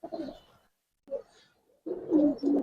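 Pigeons at a market for pigeons, including silver Giribaz and khaki breeds, give soft low coos in short bursts separated by brief silences, close and fairly quiet.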